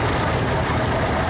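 Vintage Oliver 60 tractor engine running steadily at a show parade, a continuous low rumbling idle that stays close and even throughout with no breaks.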